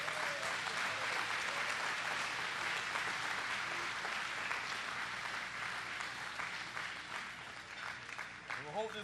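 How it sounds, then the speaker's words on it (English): An audience claps steadily in sustained applause, with some voices audible underneath as it begins to taper toward the end. "Let's give these guys a big round of applause."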